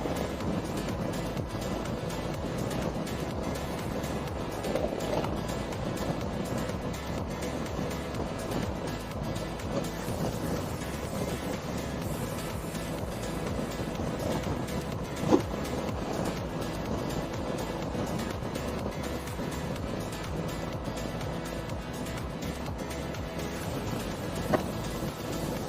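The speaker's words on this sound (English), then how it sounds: "Man, this thing rocks." A 2023 Harley-Davidson CVO motorcycle cruises on a highway, its engine rumble mostly buried under steady, heavy wind rush, with a couple of faint knocks; no voices are heard.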